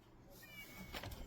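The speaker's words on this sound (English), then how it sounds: "Sorry about the cat." A house cat meows a couple of times indoors, brief and fairly close, during a tablet car-mount review with someone talking intermittently.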